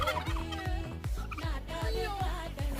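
A turkey gobbles in a children's park, a rapid run of rattling gobbles repeated several times, close and loud with no talking.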